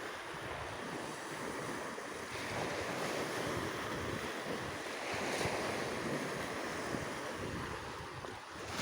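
Big ocean waves roll and crash steadily on a windy beach, a dense continuous roar with wind buffeting the microphone throughout and no voices.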